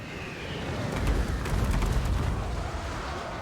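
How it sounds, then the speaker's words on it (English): Rocket batteries firing and explosions in a tabletop wargame battle, heard as a dense rumbling boom that swells and settles with faint crackle, steady and moderately loud. "The Regiment of Renown rocket batteries are doing some work on those Slayers."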